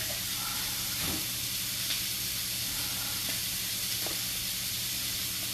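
Food sizzles steadily in a cast iron pan, a loud, continuous frying hiss close up with faint occasional pops and no speech.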